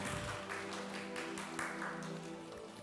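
Congregation applauding during a Korean church Sunday worship service in Sydney, a steady patter of clapping throughout, moderately loud and without talk.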